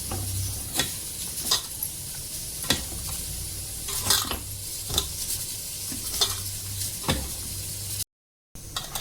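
Chicken being mixed by hand with ground mint, chilli, ginger-garlic paste and salt, giving soft, wet squelching and scraping strokes at irregular intervals, close but quiet, with a short gap near the end and no talking.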